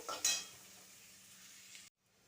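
Faint, steady sizzle of onions frying in a pan, with a brief louder crackle near the start, then it cuts off abruptly.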